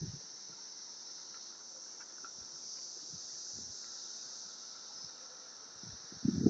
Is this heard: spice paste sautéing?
no